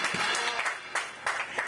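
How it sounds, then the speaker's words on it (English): A church congregation claps in praise, a short burst of dense, moderately loud applause with uneven surges that lasts under two seconds. "Let's give God a hand clap and praise"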